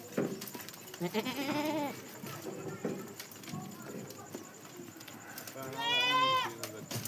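A goat in heat bleats loudly and close by, with wavering cries early on and again near the end, while people talk quietly in the background.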